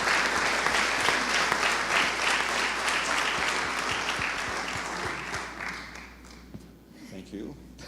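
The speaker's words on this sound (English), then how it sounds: "So if we can please give her a big round of applause if she comes on stage." A forum audience applauds as a speaker, a woman who has climbed Mount Everest, comes on stage; dense sustained clapping fills the hall and slowly thins toward the end, with some voices mixed in.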